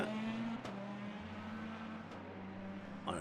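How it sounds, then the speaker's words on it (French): A safety car in the Le Mans Ultimate racing game gathers speed, its engine a steady drone that shifts pitch as it accelerates, with a couple of brief sharp transients and no talk. "La safety car va prendre de la vitesse petit à petit"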